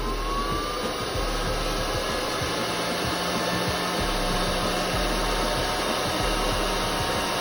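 An Aillio Bullet coffee roaster runs its cooling fan after roasting, a steady close whooshing drone like a hair dryer, with faint light ticks of beans stirring underneath.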